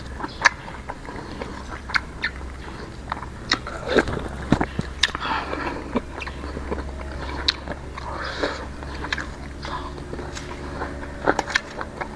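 Close, crunchy chewing of eel bones with sharp little cracks and clicks, irregular and steady throughout, with faint background noise.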